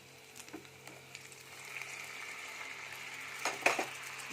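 Spice paste frying in hot oil with potatoes, cumin, salt and turmeric for a Bengali fish curry with cumin and ginger, a soft steady sizzle with faint stirring clinks and a brief louder spatter near the end.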